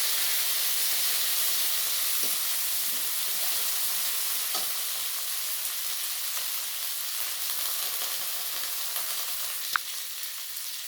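Onion leaves fry in a pan while being stirred, giving a steady, close sizzle with occasional faint scrapes and a sharp tick near the end.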